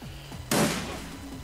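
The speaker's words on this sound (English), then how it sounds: "two weak shots" Gunfire from the turn-based game Shadowrun Returns, a sharp broadband shot bursting in around halfway and decaying over a second, loud and alone against a low game backdrop; a second shot is not clearly separated.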